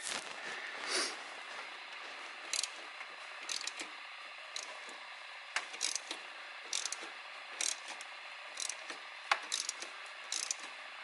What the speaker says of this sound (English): I'm using a wheel puller here